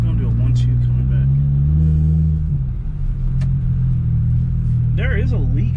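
A lowered BMW E92 coupe rumbles deeply as it drives, the engine note steady and close with small shifts in pitch, while a voice speaks briefly over it near the end.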